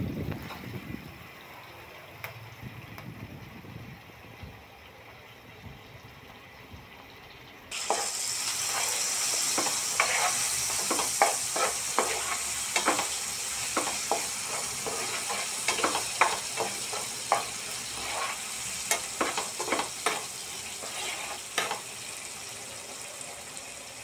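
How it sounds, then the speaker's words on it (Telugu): Onions fry in a pan until golden brown. After a quieter stretch, a louder sizzle abruptly sets in, with repeated scraping and stirring strokes running throughout. "బాగా ఫ్రై చేసుకుందాం. ఉల్లిపాయలు గోల్డెన్ బ్రౌన్ వచ్చే వరకు."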